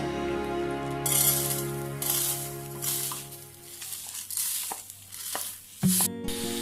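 Rice roasting in a hot non-stick pan for ariyunda, heard as scraping stirs and gritty grains shifting against the pan in uneven bursts, with a few sharp clinks of a spoon.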